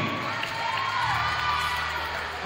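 Crowd in a high school gym cheers and applauds steadily for three senior players at a Shenango versus Sewickley Academy women's varsity basketball game, a dense, continuous roar of whoops and clapping.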